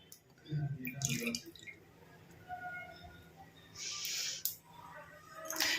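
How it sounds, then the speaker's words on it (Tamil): About 50 ml of coconut oil is poured into an iron kadai, producing soft, close glugging and dripping splashes in uneven bursts, with a faint voice heard at times. "50 மில்லி அளவுக்கு இந்த ஆயில் நான் எடுத்துக்கிறேன். இப்போ இதை இந்த இரும்பு கடாயில் நம்ம ஆட் பண்ணிக்கலாம்"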